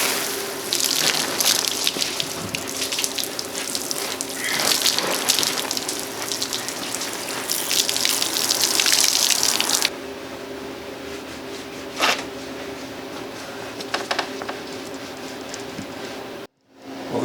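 Water pours and gushes steadily over a wooden mid-century dining table as it is rinsed, a broad spraying wash that runs loud for about ten seconds, then drops to a quieter trickle with a few brief splashes.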